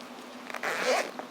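A zipper on a baby-pink sling bag is pulled open in one quick, close rasping stroke, with faint handling noise around it.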